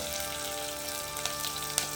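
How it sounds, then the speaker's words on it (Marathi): Cumin seeds and chillies crackle in hot oil for a tempering, a faint continuous sizzle broken by a couple of sharper pops near the end, with no talking. "थोडे जिरे घालून घेऊ जिरे तडतडल्यावर त्याच्यावर मिरच्या घालून घेऊ"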